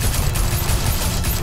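Gunfire from the Batman: The Telltale Series video game: a dense, loud burst of rapid automatic shots with heavy low-end thumps, continuous for the full moment without any talking.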